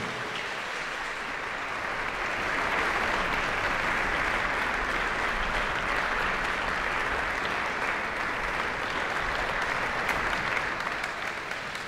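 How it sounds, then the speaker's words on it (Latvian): Steady, full applause from a concert audience at a Latvian choir performance, a dense wash of clapping that swells slightly after the start and holds at an even level throughout. "Aplausi, lūdzu."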